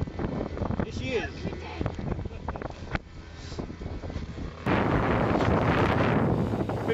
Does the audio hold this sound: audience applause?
no